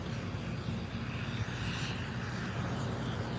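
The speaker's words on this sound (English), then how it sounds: "It's like another nitrogen tank up there in the suborbital tank farm doing some venting." A nitrogen tank venting at the SpaceX suborbital tank farm in Starbase, Boca Chica, Texas, heard at night from a distance as a steady, broad rushing hiss and rumble with no talking.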